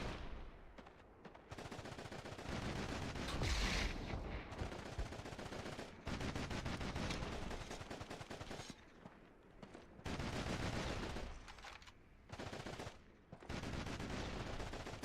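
Gunfire in the PS2 game Call of Duty 2: Big Red One: repeated rapid machine-gun bursts and rifle shots, loud and close, with brief pauses between volleys.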